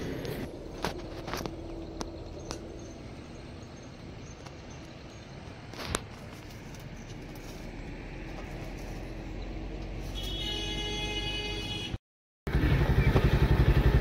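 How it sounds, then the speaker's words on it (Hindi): A motorbike idles and revs nearby with a rough, steady engine drone, mixed with scattered clicks and footsteps, a sudden brief cutout, then a louder surge of engine noise. "अब इनकी बाइक का रगड़ा आप देखिए"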